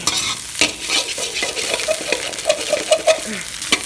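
Minced pork and egg stirred in a hot frying pan: a loud, close sizzle with repeated spatula scrapes and clinks across a few seconds.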